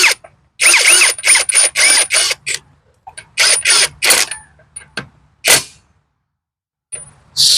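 A cordless brushless 1/2-inch impact wrench loosens nuts in a string of short, loud hammering bursts with sharp quiet gaps between them, close by, followed by a few brief clunks.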